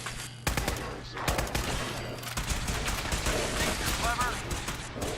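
Rapid automatic gunfire in the video game Fallout 4, a dense close fusillade of bursts running almost without pause, with voices talking over parts of it.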